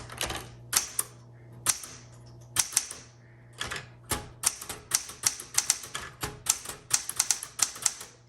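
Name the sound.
typing on a 1967 Smith Corona Classic 12 typewriter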